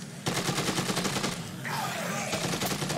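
Rapid bursts of automatic gunfire from mercenaries in the video game Dead Rising 2, loud and sustained across the whole stretch, with a brief shifting whoosh midway and no speech.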